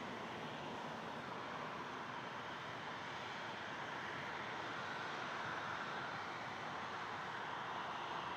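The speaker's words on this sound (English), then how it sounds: "Alright, KLM's on the move, you're right. It's almost at its taxi, exiting apron and going to taxi." A KLM airliner taxis away from the apron at Toronto Pearson airport, heard as a faint, steady distant engine hum and whine with no voices, continuous for several seconds.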